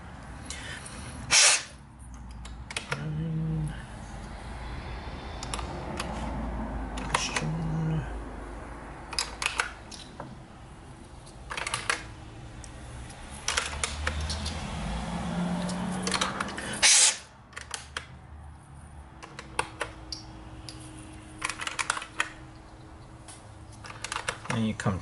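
Plastic keycaps clicking and snapping onto an IBM Model M keyboard during reassembly, a scattered series of sharp taps and knocks close by, with rustling handling noise in between and no talking.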